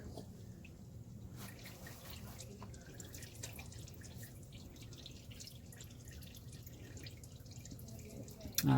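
Fluid draining from a Jeep Cherokee, a soft continuous trickle and drip under faint background noise, steady and close, with a louder knock at the end.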